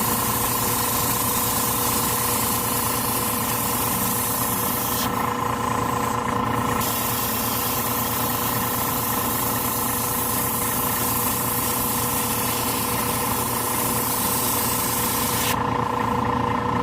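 Continuous hissing spray from a Harder & Steenbeck Colani airbrush over a steady compressor hum, with two brief bursts where the hiss changes character.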